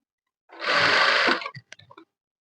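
A sewing machine runs in one short, steady burst while stitching fabric for a skirt, then stops with a few small clicks and fabric handling sounds.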